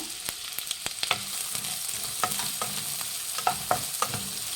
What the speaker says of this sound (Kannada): ಈರುಳ್ಳಿ ಹಾಕ್ಕೊಳ್ಳಿ, ಫ್ರೈ ಮಾಡಿ ಚೆನ್ನಾಗಿದೆಲ್ಲ